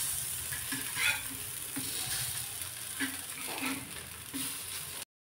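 Oil-free vadas roasting in a covered pan, a soft continuous sizzle with faint periodic taps and rattles, close and low, cutting off abruptly at the end.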